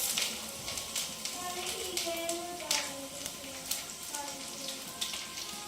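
Ginger and garlic frying in hot oil with fenugreek seeds and curry leaves for a Kerala-style fish curry, a steady close sizzle with faint crackles running under a voice.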